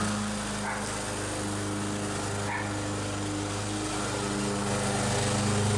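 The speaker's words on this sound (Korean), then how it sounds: "잔디 깎아주시는 분이 저희 집 마당 잔디 깎고 계십니다" A lawn mower engine drones steadily nearby while cutting grass, with a faint dog bark in the background.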